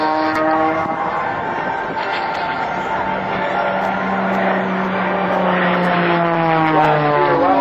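Sean Tucker's aerobatic biplane, a roughly 1,250-pound machine with over 400 horsepower, drones steadily overhead at an Air National Guard open house in Rhode Island, its propeller engine note sliding downward in pitch as it passes.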